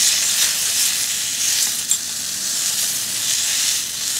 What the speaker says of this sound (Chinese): 热一下锅子，然后回锅时间不用很长。